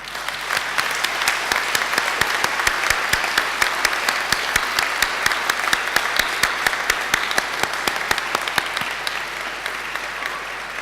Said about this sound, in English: turn around to face your family and friends and give them a mighty round of applause